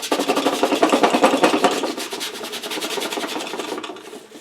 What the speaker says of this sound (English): I'm going to rub that out.